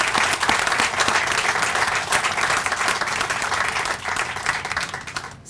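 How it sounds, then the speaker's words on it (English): Outdoor crowd at a truck and diesel program expansion groundbreaking ceremony claps for faculty, staff and students, a sustained wash of hand claps with scattered sharper claps, gradually easing toward the end. "If we can give a round of applause to our faculty and staff and students"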